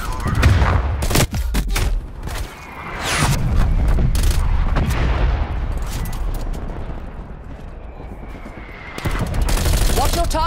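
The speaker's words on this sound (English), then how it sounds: "Enemy sniper shooting." Gunfire in the Black Ops Cold War video game during a Domination match on Yamantau. Several sharp, loud shots crack out in bursts over steady battlefield rumble, with a stretch of sustained firing near the end.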